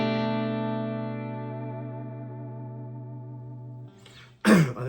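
Electric guitar with single-coil pickups played through a Marshall amp model on a Quad Cortex: a sustained, mildly distorted chord rings out and slowly decays for about four seconds, then a short scratchy pick attack and a new loud strum.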